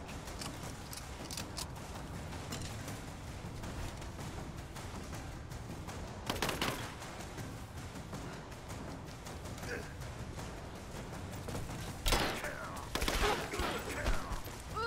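Rise of the Tomb Raider gunfire comes in a dense run of rapid shots throughout, with louder bursts in the middle and near the end, under a player's talk.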